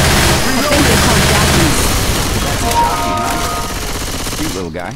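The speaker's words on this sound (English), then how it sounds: "Shooting each other" Dense gunfire in Left 4 Dead 2 on the Dead Center campaign, a loud rapid fusillade of shots packed together for several seconds before easing off, with a voice heard speaking under it.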